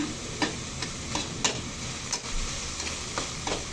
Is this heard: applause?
no